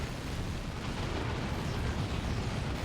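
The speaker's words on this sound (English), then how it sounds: "There's a Hell Fury strike." A Hell Fury strike in the Dawn of War 2 strategy game, a 3v3 match, erupts as a dense, continuous rumbling roar of explosions, loud and sustained with heavy low-end thunder throughout.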